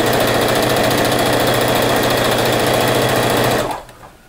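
A sewing machine stitches steadily through the thick seam of a rag quilt, its close, loud motor hum running continuously for several seconds before cutting off near the end.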